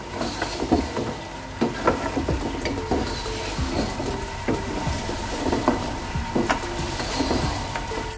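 Steady sizzling of goat trotters frying in a pan, with repeated scraping and stirring clinks of a spoon against the metal throughout.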